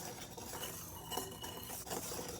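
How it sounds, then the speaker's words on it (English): A whisk clinks and scrapes against a bowl while mixing crust batter for a Southern blackberry cobbler, a steady run of small metallic taps and stirring close by with no talking. "give it a quick whisk until well combined"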